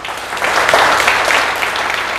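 A large audience at a network marketing leadership training event claps loudly and continuously, a dense, close wash of applause that swells slightly and holds for the whole stretch.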